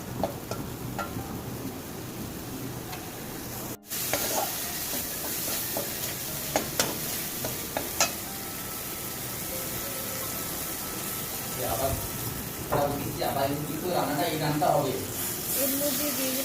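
Masala spices with red chilli powder sizzle steadily as they are sautéed in a pan, under a constant frying hiss with scraping stirs and clinks of a utensil, while someone talks over it.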